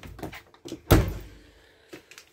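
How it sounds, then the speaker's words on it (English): The habitation door of a 2018 Benimar Mileo 286 motorhome shuts with one solid, close thunk and a short rattling decay, set between softer handling knocks. "we open your habitation door"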